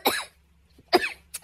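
A woman sick with Covid coughs at home: one close, harsh cough, a pause, then another cough followed by a shorter third.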